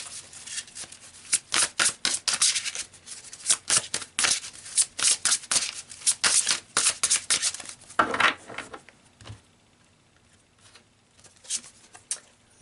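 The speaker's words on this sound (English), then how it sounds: "So let's pull you another card to clarify that advice." Tarot cards being shuffled and drawn in a reading, a run of crisp riffling bursts and slaps, close and fairly loud, with a softer sliding draw near the end and no talk.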